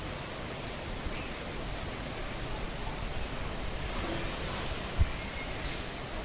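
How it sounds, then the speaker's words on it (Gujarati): Steady, even hiss of morning rain falling gently, a broad continuous wash with no distinct drops standing out, fairly quiet and uniform throughout, with one brief soft thump near the end. "સવારમાં વરસાદ ચાલુ થઈ ગયો છે"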